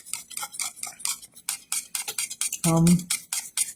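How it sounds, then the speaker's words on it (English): Homemade Mod Podge glue mixture is stirred in a container, giving a quick rhythmic run of light scraping clicks and one heavier clunk, close and fairly quiet. "You want to get that stirred up really well."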